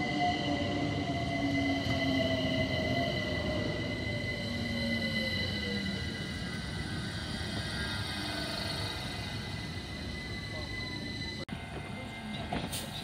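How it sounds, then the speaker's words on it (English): A London Overground Class 378 electric train rumbles steadily into Brondesbury Park station, with whining motor tones and faint wheel squeal gradually shifting in pitch as it slows. "Arriving now is the London Overground train going to Clapham Junction."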